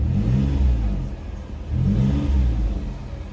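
A Ford Escape V6 engine on a used island car revs up in two broad swells, steady and fairly loud, with no talking over it.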